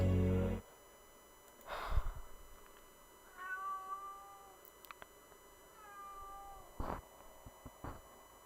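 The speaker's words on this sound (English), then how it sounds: "My cat's hungry" A hungry cat meows several times at close range, with a few drawn-out, rising calls spaced a second or two apart and some quiet handling noises in between.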